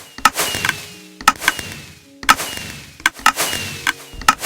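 Minecraft Pocket Edition automatic firework shooter going off: sharp repeated launch bangs with crackling bursts and faint whistles, arriving in clusters of two or three roughly every second, fairly loud with no talk.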